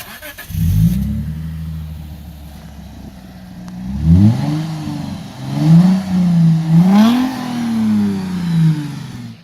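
A Lexus IS250 with a straight-piped exhaust and its O2 sensors removed idles, then revs several times in loud, rising and falling pulls, close by with no talk.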